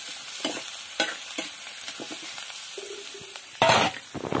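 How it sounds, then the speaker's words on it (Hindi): Food browns in a small amount of hot oil in a pan, likely potatoes and onion being fried for seasoned rice, with a soft steady sizzle broken by close spatula scrapes and stirring knocks, louder near the end. "रुको थोड़ा ब्राउन कर लेथन हम चला के।"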